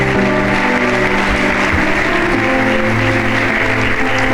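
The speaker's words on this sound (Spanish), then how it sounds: "Dale un fuerte aplauso al Rey" A church congregation applauds for the King during a Sunday service, a dense, loud and continuous wash of clapping that fills the room throughout with no voices on top.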